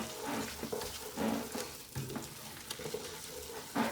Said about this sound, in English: Use a good wooden spoon here. And just keep stirring.